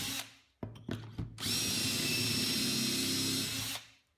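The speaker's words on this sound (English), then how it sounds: "I'll just drill right through till the tape that I've labeled" A power drill starts with a few short revving bursts, then runs steadily at high speed drilling pocket holes into wood for about two seconds before winding down.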